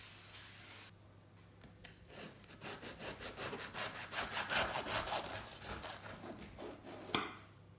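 A knife saws back and forth through a crusty loaf of freshly baked homemade bread, rapid scraping strokes building in loudness and crunch, close and fairly quiet, with no talking.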